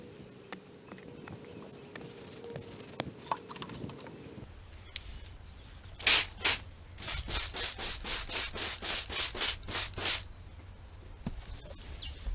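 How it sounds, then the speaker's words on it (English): Excess natural plaster being scraped off a strawbale wall, a run of about a dozen evenly spaced, close rasping strokes in quick rhythm after a few quieter scuffs, with no talking. "let's see if we can take the excess off here"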